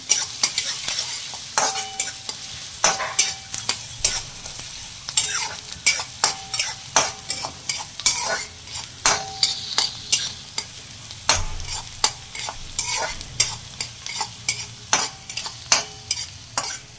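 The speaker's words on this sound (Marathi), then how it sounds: "आता कांदा चांगला फ्राय करून घ्यायचा आहे तांबूस रंग येईपर्यंत।" Chopped onion sizzles and fries in a pan for a dried-fish sukat dish while a spatula stirs it at regular intervals, close and fairly loud, with the steady crackle running underneath the scraping strokes and no talk.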